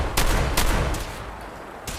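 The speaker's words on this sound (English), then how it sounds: "I hear gunshots." Gunfire in the post-apocalyptic video game Fallout 4: a few sharp broadband gunshot bursts, moderately loud against a dense background din, with one more shot near the end.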